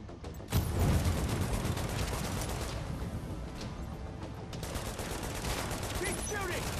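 Dense, sustained gunfire in Tom Clancy's The Division, a continuous fusillade of rapid shots that stays loud throughout, with a voice speaking briefly over it.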